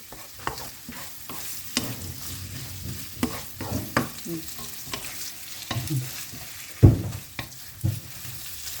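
Pork stir-frying with cabbage, carrot and onion in a pan, close scraping strokes of a spatula at irregular intervals over a continuous sizzle, one sharp louder clank near the end.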